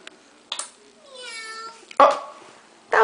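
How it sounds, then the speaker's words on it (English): A cat gives a drawn-out, wavering meow close by, followed by a couple of short sharp sounds. "Oh, that was a"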